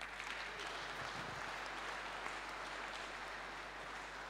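A church congregation applauds steadily, a dense, even wash of clapping hands heard from a distance at low level throughout, with no voices standing out.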